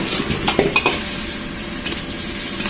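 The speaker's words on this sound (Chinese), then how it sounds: "翻炒" Pig trotters are stir-fried in sauce over low heat, giving a steady close sizzle with a few scraping clinks of the utensil against the pan early on. No voices are heard.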